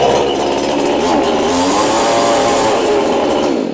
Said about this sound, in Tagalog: power chainsaw pa rin po.